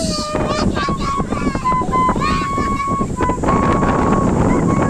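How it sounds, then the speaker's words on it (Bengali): Strong wind from Cyclone Remal batters the microphone in a continuous roar. Voices can be heard under the gusts. "জানি না আপনারা শুনতে পারছেন কিনা বিকজ প্রচুর পরিমাণ বাতাস"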